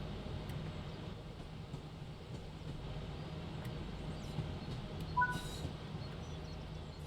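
A steady low rumble of a train rolling along the track in Train Sim World 6, constant and fairly quiet, with no voices.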